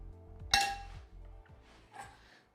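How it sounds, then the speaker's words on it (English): A kitchen knife cuts marinated tofu into little cubes for a garlic-ginger sweet and sour dish, starting with one sharp, ringing metallic clack up close, then a few softer, irregular taps against the board, with no talking. "So now we're gonna just chop it up"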